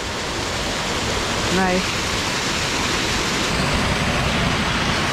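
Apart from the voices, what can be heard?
creek waterfall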